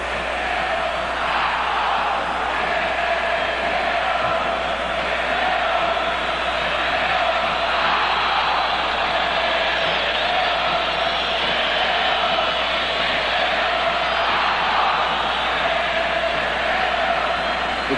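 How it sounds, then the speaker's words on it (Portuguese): Flamengo football supporters fill a stadium with a dense, continuous roar of cheering and chanting, loud and steady throughout, heard at a distance as a broad crowd wash during a Carioca championship final. "O barulho que a torcida do Flamengo está fazendo é um negócio incrível"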